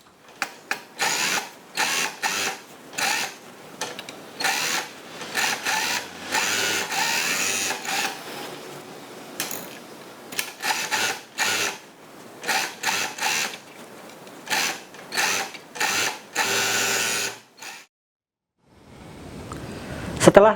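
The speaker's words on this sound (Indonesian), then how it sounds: "langsung saja kita obras bagian kerung lengan ini." An overlock machine serges the armhole seam of a child's dress sleeve in close, loud bursts of rapid whirring stitching separated by short pauses, then a longer stop and a final rustle.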